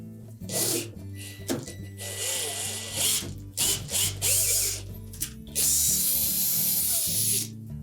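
A mounting bolt driven into an unthreaded hole to cut threads while replacing the front roller kit on a Whirlpool refrigerator, heard as loud bursts of ratcheting and whirring tool noise, stopping and starting, close by.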